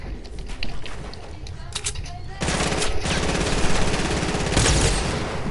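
Rapid automatic gunfire in a video game rattles loudly and continuously through the second half after scattered shots earlier, with a voice talking underneath.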